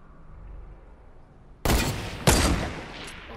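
Two sharp sniper rifle shots crack out in a video game after a quiet ambient stretch, each loud report followed by a brief ringing tail.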